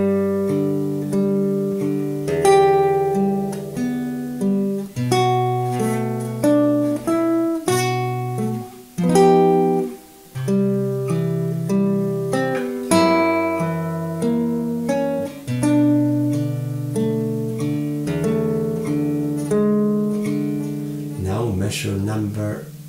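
Fingerstyle acoustic guitar plays a song alone and near, with a steady bass line under a plucked melody and chords, a short pause midway, and a strummed ending.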